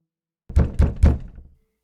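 Three firm knocks on a door, evenly spaced and close, dull and heavy thuds ringing out in silence.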